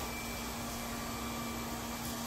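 A robot vacuum cleaner hums close by with an unbroken, even motor drone and airy hiss, steady in loudness throughout and heard alone.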